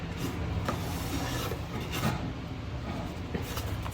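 Wood stain is wiped across refinished furniture with a cloth, giving a continuous close, soft rubbing hiss with faint rhythmic strokes.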